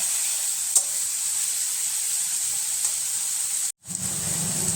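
Spice masala with onion, tomato, salt and turmeric frying in a pan, a loud constant sizzle and hiss heard close up, with a couple of faint stirring taps and a brief cut near the end.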